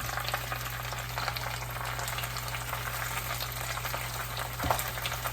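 Spinach sautés in a pan with a soft, continuous sizzle and faint crackle, quiet and steady, broken by a brief clatter of stirring near the end; no one speaks.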